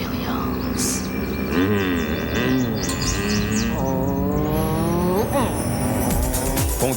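A Pontiac Sunfire GTO's 120-horsepower engine revs and shifts through rising and falling pitches while tires squeal sharply, loud and close, with chirping bird-like squeaks mixed in.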